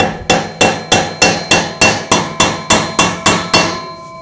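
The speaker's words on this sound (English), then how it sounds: "it also helps to tap on the bolt" A metal tool taps repeatedly on the bolt of a washer drum pulley on a Gibson Frigidaire washing machine: about eleven loud, evenly spaced ringing metallic knocks, close-up, with nothing else heard.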